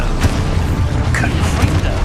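Exploding spell blast in the Hogwarts Legacy video game, a dense, loud rumbling boom with crackling bursts layered over continuous game noise, close and sustained for about two seconds.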